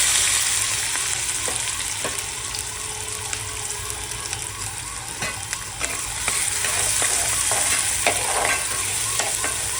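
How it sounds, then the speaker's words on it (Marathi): Onion fries in hot ghee and oil in a pan, giving a loud, continuous sizzle with stirring scrapes and occasional knocks throughout, and no speech over it. "तेल तापलं आहे। आता आपण ह्याच्यामध्ये कांदा टाकूया।"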